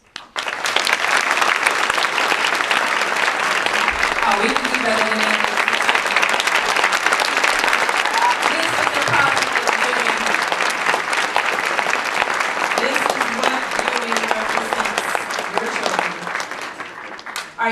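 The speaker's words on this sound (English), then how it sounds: "I'd like just to give one last round of applause for all the families" A school audience at a parent recognition ceremony claps for the families in a sustained, dense round of applause that fills the room, with a voice briefly speaking over it.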